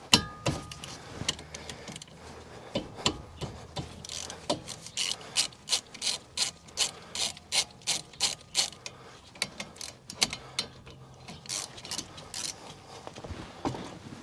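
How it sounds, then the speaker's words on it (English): Ratchet clicking in bursts while loosening the brake caliper bolts on a Toyota RAV4, a quick series of sharp metallic pawl ticks close up with short pauses between strokes. "We've got to take these 2 bolts off to get the caliper off."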